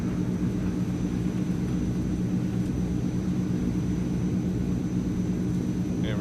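A simulated Transall C160 transport plane takes off across a valley: a continuous, loud, low propeller-engine drone with a steady hum and no change in pitch, no talk over it.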